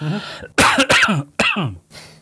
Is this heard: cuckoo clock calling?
no